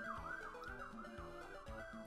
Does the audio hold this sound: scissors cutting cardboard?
no